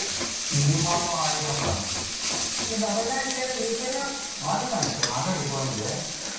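Curry sizzles and simmers steadily in a pan, a continuous frying hiss with occasional stirring, while someone speaks over it.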